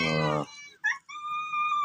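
Stray cats at morning feeding time, one giving a loud drawn-out meow, then a short higher cry, then a thin sustained wail, all close and clear with no talk over them.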